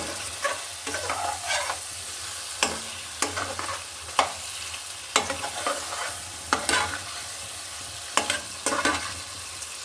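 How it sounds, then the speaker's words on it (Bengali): Pieces of katla fish fry in spice paste with a constant low sizzle, while a spatula scrapes and turns them in bursts of rough, close stirring strokes. No one speaks. "মশলাটা ভালো করে কষিয়ে নেব মাছটা আমি ভালো করে কষিয়ে নিচ্ছি"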